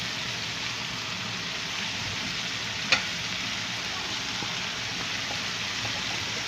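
Chicken karahi with fresh coriander and green chilli stirred in a pan, a soft continuous sizzle with a single sharp clink from the utensil partway through.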